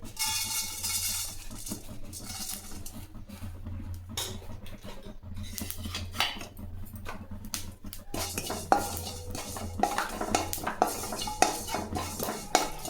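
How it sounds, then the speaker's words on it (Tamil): Roasted chana dal tipped from a pan into another vessel, with metal scraping, clinking and rattling of dry lentils, close and busy, sharper knocks toward the end. "இதை வேறு ஒரு பாத்திரத்துக்கு மாற்றிக்கலாம்"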